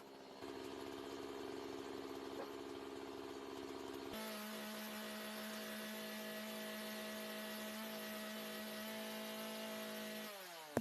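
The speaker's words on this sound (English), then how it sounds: "I'm going to chop it into 2 semicircles" A chainsaw runs into a big lump of white oak, splitting it into two semicircular halves, with a continuous, steady, loud engine drone whose pitch and tone shift partway through.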